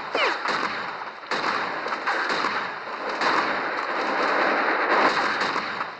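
Shotgun fire in the mobile shooter Critical Strike Portable, several sharp blasts spread at irregular intervals over a loud, dense game soundscape.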